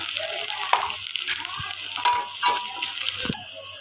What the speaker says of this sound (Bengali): এবার আমি ঘষে রাখা আদা আমি দিয়ে দিচ্ছি, সামান্য একদম অল্প দিয়ে আমি একটু ভালো করে নাড়াচাড়া করে